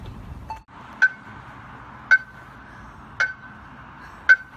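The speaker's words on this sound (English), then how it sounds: "In our town, the crosswalk buttons beep quietly, but one's been a little louder than normal." A crosswalk push-button signal that is louder than normal gives four sharp, evenly spaced beeps about a second apart. They stand out clearly over steady outdoor background noise.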